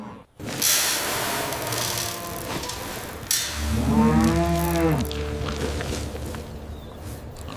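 Cattle raised for leather production let out a single long, drawn-out moo in the middle, heard over steady low background noise.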